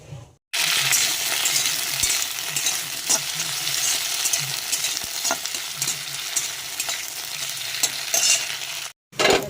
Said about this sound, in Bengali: শিমগুলো আমার হলুদ হালকা ভাজা ভাজা হয়ে গেছে